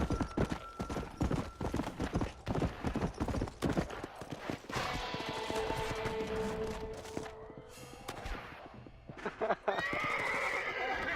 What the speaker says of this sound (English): Jump, horse!